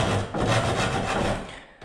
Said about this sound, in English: And then you keep cutting this way, and that will ensure that you're cutting at a miter cut.